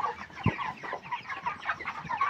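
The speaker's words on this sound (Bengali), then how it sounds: "500 ব্রয়লার মুরগি।" Broiler chickens cluck and murmur continuously in a poultry farm shed, a busy close chorus of soft calls with one louder thump early on.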